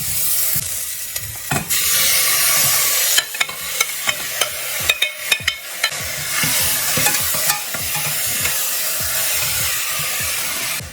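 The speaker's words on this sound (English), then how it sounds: "So now I'm gonna add the shallots and just give them a very light 1 minute saute." Shallots and green onions sauté in a hot pan, a continuous sizzle broken by several sharp scraping strokes of a utensil stirring against the pan.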